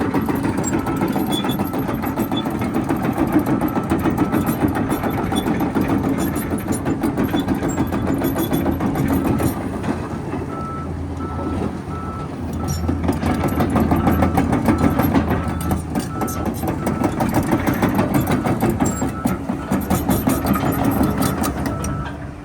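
The Cummins diesel engine of a 2023 XCMG 300 excavator idles close by with a steady, loud, unbroken rumble and fine mechanical clatter. A slightly deeper hum swells briefly midway.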